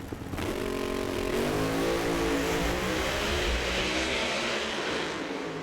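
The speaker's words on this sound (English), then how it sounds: "Belushi gets on and off the throttle in the far lane, and the turbocharged Mustang will advance" A turbocharged Mustang Pro Mod drag car at an NHRA event in Bristol revs on and off the throttle in a loud, sustained roar. The engine pitch sweeps up and down over a constant crowd-and-track wash.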